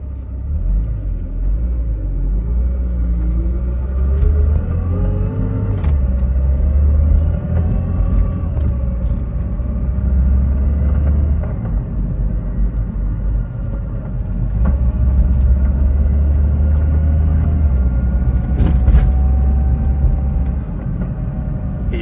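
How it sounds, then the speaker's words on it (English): A BMW race car's low engine rumble from inside the cabin, with straight-cut DCT transmission whine and pitch steps rising and dropping as gears engage, steady and fairly loud throughout. "This is the gears engaging."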